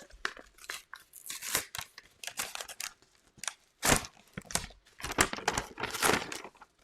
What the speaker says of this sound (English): I'm trying to, like, quietly open things.